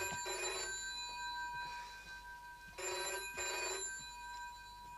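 A telephone bell in a domestic room rings repeatedly in distinct trilling bursts with short pauses, moderately loud and steady, with no one speaking.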